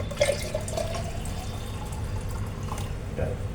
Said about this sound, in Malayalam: എന്നിട്ട് നമുക്ക് ഇനിയും കുറച്ച് വെള്ളവും കൂടി ഇതിനകത്തോട്ട് ഒഴിക്കണം.